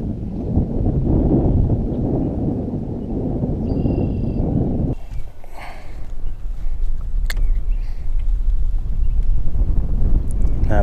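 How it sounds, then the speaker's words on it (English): Strong wind buffets the microphone on an open fishing boat in early spring, a loud low rumble that drops away midway, leaving faint water and small clicks of fishing gear. "this wind's blowing"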